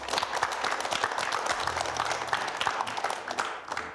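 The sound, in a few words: audience applause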